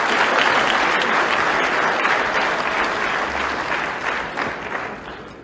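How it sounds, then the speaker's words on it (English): A large audience applauds steadily after Professor PLO Lumumba finishes a public lecture on democracy in Zambia, a dense, sustained wash of clapping that stays loud throughout and tapers only slightly near the end, with no speech over it. "Another round of applause,"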